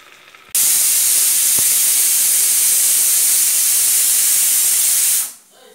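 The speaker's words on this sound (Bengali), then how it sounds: "সিটি মারা চলছে" A pressure cooker cooking khichuri on the stove lets out one continuous loud, hissing steam whistle lasting about five seconds, close up, before it abruptly fades away.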